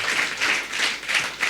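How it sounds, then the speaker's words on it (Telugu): A church congregation at a Sunday service claps together in quick, regular bursts, about five rhythmic waves of many hands, fairly close and without talk over it. "మీరు నమ్మితే క్లాప్స్ కొట్టండి."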